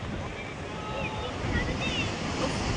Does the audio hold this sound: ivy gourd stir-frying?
no